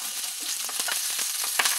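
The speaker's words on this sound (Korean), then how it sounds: "저는 이렇게 후라이팬 지글지글한 소리가 얼마나 좋았는지 몰라요." Seasoned raw chicken breast sizzling in a frying pan for skewers, a steady close crackle and hiss with occasional sharper pops, no talking.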